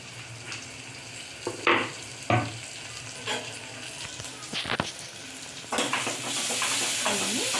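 Cut green chillies frying in a pan for parugu charu, a yogurt rasam, make intermittent crackling sizzles and stirring scrapes that swell into a steadier, louder frying hiss near the end, with no voices.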